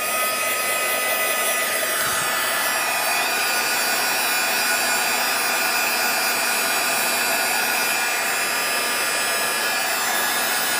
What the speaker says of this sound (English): it's going to get a little noisy for just a minute while I heat set this really quickly.